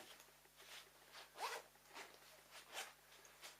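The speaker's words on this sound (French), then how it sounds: "une autre fermeture éclair à voir la poche carrément" Zipper on a fabric bag pulled open or shut in several quick, faint rasping strokes, close by and quiet with no talking.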